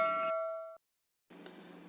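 A single notification bell ding rings out clearly with a sustained tone and fades within about three quarters of a second. Brief silence follows, then a steady wash of background noise.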